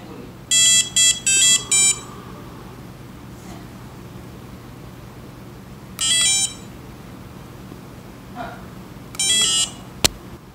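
The built-in buzzer on a Maker Pi RP2040 robotics controller board sounds in short bursts of electronic tones, first a quick run of four beeps, then two separate single beeps several seconds apart, ending with a sharp click.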